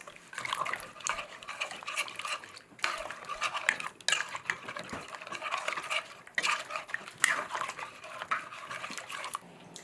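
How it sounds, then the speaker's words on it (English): A utensil scrapes and stirs against the bottom and sides of a pot of curry goat with liquid added, producing repeated close metallic scraping strokes at a moderate level. "Just scrape up any bits at the bottom or the sides."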